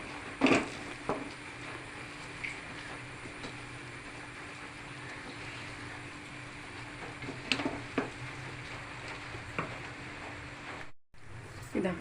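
Karkidaka lehyam with ghee and flaxseed cooking in a pan while being stirred, a continuous low rumbling sizzle broken by a few sharp scrapes and knocks of the spoon.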